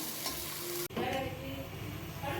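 Chicken frying gently over low heat until golden brown, a steady close sizzle with stirring and a brief dropout partway through; no one speaks.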